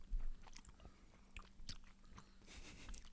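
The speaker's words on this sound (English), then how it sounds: "Listen to us chew for 5 minutes." People chewing inexpensive, sugary chocolate up close, with soft crunches and wet biting sounds repeating irregularly over a low background hum, no talking.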